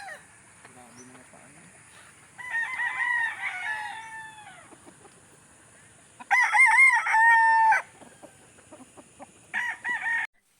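Gamefowl stags tethered in a cording area crow in three separate bouts, loud and nearby, with quieter yard sounds in the gaps between them.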